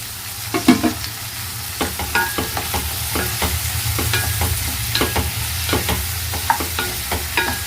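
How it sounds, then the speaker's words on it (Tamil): Onions, tomatoes and garlic sizzle steadily in a hot pan while a spoon repeatedly scrapes and stirs, producing irregular clinks over the constant frying hiss. "இப்போது வெங்காயம், தக்காளி, பூண்டு எல்லாமே நல்லா வதங்கிடுச்சு"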